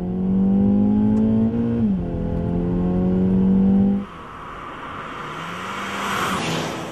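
A Seat Ibiza Cupra accelerates hard from standstill toward 100 km/h, its engine note climbing loud and close, dropping briefly at a gear change, then rising again before easing off into a quieter, more distant whir.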